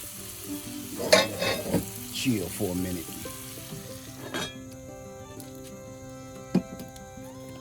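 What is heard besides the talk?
food simmering in a skillet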